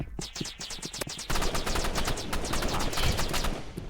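Rapid automatic AR rifle fire in a video game, dense bursts of shots rattling in quick succession, loud and continuous over the whole stretch.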